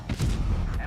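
One booming cannon shot from a tank in a competitive tank video game, heavy and close, with a short rumbling tail and a voice speaking over it.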